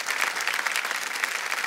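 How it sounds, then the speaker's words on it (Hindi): A television quiz-show studio audience claps steadily, a thick, even roar of applause that carries through the whole stretch without any voices. "शरद जी एक बार जोरदार तालियां बज जाए"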